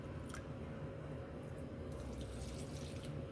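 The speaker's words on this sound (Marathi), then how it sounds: "त्याच वाटीने याच्यामध्ये मी पाणी घालणार आहे" Water pours steadily into a bowl of gram flour, a continuous close splashing stream with no pauses.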